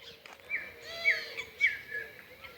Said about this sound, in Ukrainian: До пташиного концерту вже додався і соліст Соловейко.